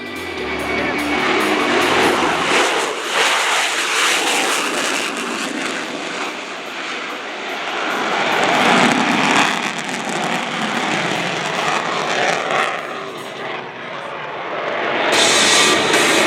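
A USAF F-16 Viper jet takes off at an airshow, a loud, broad roar that swells and fades as it passes, with faint commentary underneath.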